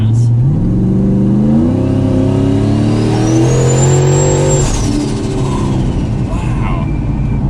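A 1,000 HP turbocharged Ford Mustang GT accelerates hard from about 40, its engine note climbing through rising pitch steps with a turbo whine rising above, loud and close from inside the car.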